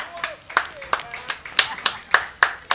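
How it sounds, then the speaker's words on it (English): Sparse clapping from a small crowd at an amateur baseball game, about a dozen sharp, distinct claps in a loose rhythm, fairly close, with a voice faintly present between them. "Round of applause for those guys."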